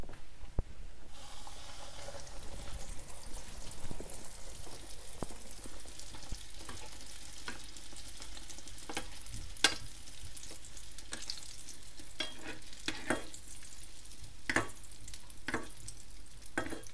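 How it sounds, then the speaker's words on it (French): Onion dough bread fries in a shallow layer of hot oil in a pan, giving a continuous close sizzle with scattered sharp crackles and pops throughout. "nous avons laissé notre huile chauffer et nous allons commencer la cuisson"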